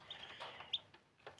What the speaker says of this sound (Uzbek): 1 kunlik jo'jalar bular.